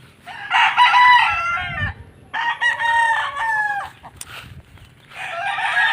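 A Boston Black gamefowl rooster on a game farm crows loudly and close, three long drawn-out crows separated by short pauses, with faint clucking and yard noise beneath.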